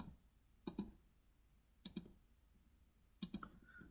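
Computer mouse double-clicking in 3D modelling software, three crisp paired clicks spaced about a second and a half apart, close and quiet against near silence.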